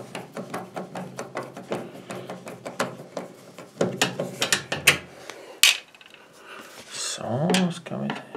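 Ratchet wrench clicking in quick rhythmic bursts while screws are driven on a Bosch appliance door seal, close and fairly loud, with someone talking at times between the mechanical clicks.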